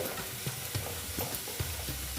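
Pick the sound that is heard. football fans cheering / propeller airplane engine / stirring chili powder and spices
stirring chili powder and spices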